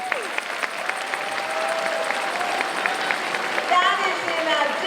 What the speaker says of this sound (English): ladies and gentlemen, I think that's something to clap for